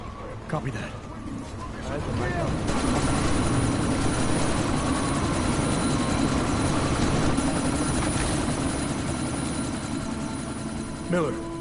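A helicopter in the video game Deus Ex: Mankind Divided drones loudly and steadily as it prepares to take off, with a low engine rumble throughout and brief game voices at the start.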